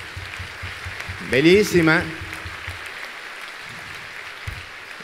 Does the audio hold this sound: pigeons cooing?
no